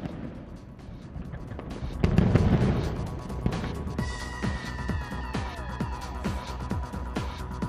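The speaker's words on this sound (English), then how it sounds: "what a setting for those fireworks." Scattered fireworks pop and crackle over Newcastle city centre, with a whistling streak partway through, sounding moderately distant and continuing in an irregular rhythm.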